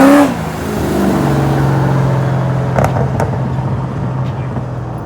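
A car engine revs at a cars and coffee meet: a steady, loud running drone with a rising tone, caught outdoors among a crowd.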